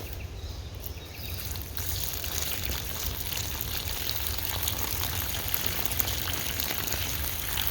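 Water pours and trickles steadily onto soil for several seconds, a continuous close splashing and dribbling with no talking.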